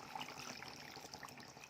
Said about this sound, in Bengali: গরম জল দিলাম, গরম জল করে রেখেছিলাম।